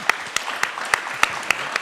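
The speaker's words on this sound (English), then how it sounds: "Please, a round of applause." Applause welcoming the guest of honor at an international water prize event, heard as a handful of separate, evenly spaced claps over a soft background, fairly quiet and slightly distant.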